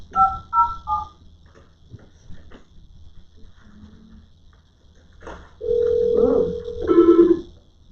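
Touch-tone telephone dialing during a county board of supervisors meeting: a quick run of paired keypad beeps opens, then quiet room noise, then louder sustained call tones near the end.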